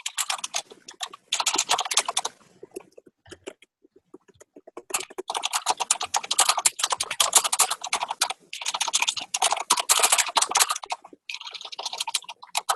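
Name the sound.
loud typing on a computer keyboard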